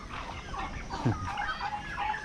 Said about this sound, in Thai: ไก่เตี้ยก็มี